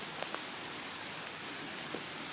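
Steady rain falls outdoors over a yard and wooded slope, a soft continuous hiss with a few faint drips, heard alone at low volume.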